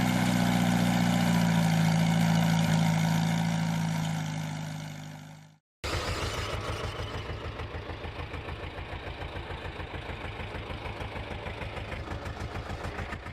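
A homemade tiller engine runs steadily with a loud, close, rhythmic chugging drone. It cuts out briefly, then restarts with a pulsing low knock.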